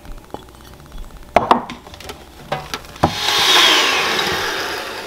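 Eggs being beaten by hand after the yolks are added to the whites, for coating dried fish in egg: scattered knocks and taps give way to a steady, continuous whisking rush in the last two seconds.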